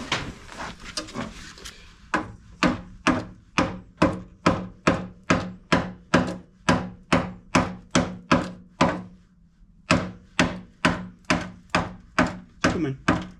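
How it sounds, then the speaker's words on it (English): A hammer strikes the rotten sill of a Land Rover Discovery 3 in a long run of steady, evenly spaced heavy thuds, close and loud, with one short pause partway through. "Yep, I need to hammer that."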